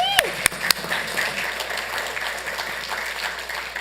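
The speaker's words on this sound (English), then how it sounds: "let's give a big round of applause for Mater Dei." A city council meeting audience applauds during a recognition segment, a continuous, moderately loud patter of many hands, with a few brief sharp tones near the start.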